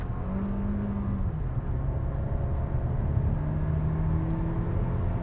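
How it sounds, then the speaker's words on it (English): Inside a 2024 Alfa Romeo Tonale plug-in hybrid with electric all-wheel drive, a steady low hum from the rear electric motor under road rumble, with a faint tone that slides in pitch as speed changes. "so what you're hearing is the motor in the back."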